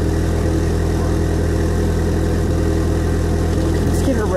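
A 1985 Ford Mustang SVO turbocharged engine with dual exhaust idling steadily with an even, low rumble, close and loud, with a brief faint sound near the end.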